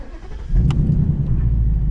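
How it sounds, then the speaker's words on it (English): A race rental car's engine fires up at the push of a start-stop button, a loud low rumble rising suddenly and settling into a steady idle close by. "Now we have the car running."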